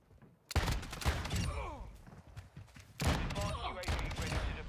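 Akimbo snake shot pistols fire in a Modern Warfare II match, bursts of rapid overlapping shots in two main volleys, loud and close, with game effects and chatter mixed underneath.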